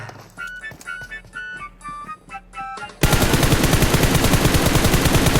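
Sustained automatic gunfire from PUBG Mobile bursts in loudly after about three seconds of quieter in-game tones and beeps, a dense rapid rattle of shots that continues to the end with no voices.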